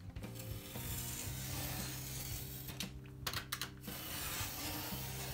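A cutting edge is drawn along a marked line through foam sheet to cut out a tapered RC plane V-tail part, giving a close, quiet, steady rasping scrape with a few sharper ticks near the end.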